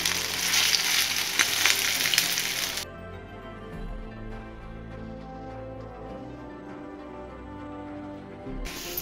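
Ragda patties frying in hot oil until golden and crispy, a loud steady sizzle for the first few seconds, then a quieter bubbling crackle with occasional clinks after the patties are turned.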